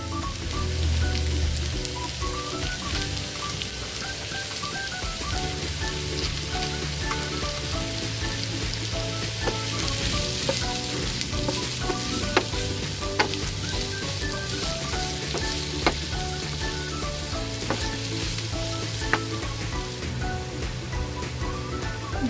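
Chicken hotdogs fry in a pan for Filipino-style spaghetti, a loud, continuous crackling sizzle with scattered sharp pops throughout, no voices over it.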